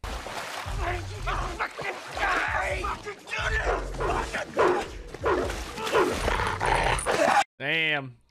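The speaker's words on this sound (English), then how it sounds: "Damn, there come his dog" A dog charges in and barks during an attack scene in a crime drama film, with loud shouting and talk throughout and a clear yelping bark near the end.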